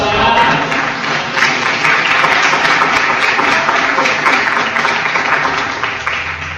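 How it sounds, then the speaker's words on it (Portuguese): A church congregation at a Portuguese-language missions service applauds loudly and continuously, a dense wash of clapping filling the hall for several seconds before easing slightly at the end. "Quem crê em Jesus, aplauda Jesus."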